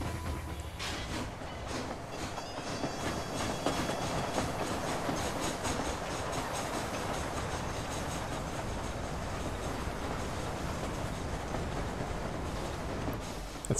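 Train from Red Dead Redemption rolling along the rails, a steady loud clatter of wheels and carriages with rhythmic clickety-clack and faint metallic squeals throughout, no voices.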